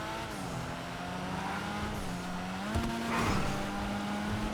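Engine of the Uranus LozSpeed car in a racing video game, a steady droning tone that shifts pitch as it brakes and picks up again, with faint tyre noise, close and continuous with no talking.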